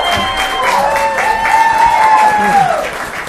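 An audience at a county board of commissioners regular business meeting claps in steady, sustained applause, with a voice carrying over the clapping throughout.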